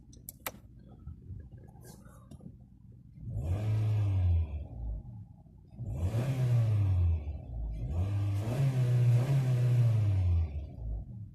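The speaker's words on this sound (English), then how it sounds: "let's go ahead, hop inside, do a few revs, and see how it sounds." A 2018 Honda HR-V AWD four-cylinder engine idles quietly after a few faint clicks, then is revved three times in succession, each rev a sustained rise and fall heard close up with no talking.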